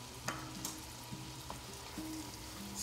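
Rinsed canned white beans go into a hot pan for Spanish-style white beans, giving a faint, steady sizzle with a few soft clinks and stirring taps, with no talking.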